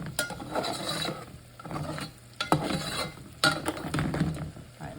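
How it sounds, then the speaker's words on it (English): Browned bacon bits are scraped up from the bottom of a pot along with onions that have released their liquid, giving a close, steady scraping and stirring over a soft sizzle with a few sharper knocks. "kind of help scrape off the brown bacon bits"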